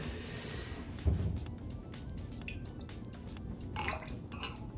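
A spoon stirs homemade milk kefir in a container, producing soft scraping and a few light clinks against the sides, close and fairly quiet, with one louder knock early on.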